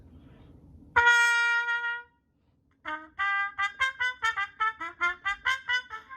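A trumpet with a Harmon mute, stem in, with a buzzy, thin tone plays one sustained note, then after a short pause a quick run of detached notes, close and clear.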